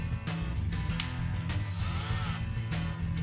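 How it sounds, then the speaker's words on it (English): A handheld power drill with trigger speed control runs in steady bursts, its motor whine changing pitch as the speed shifts, close and loud with no talking. "the trigger can control the rotation speed of the drill"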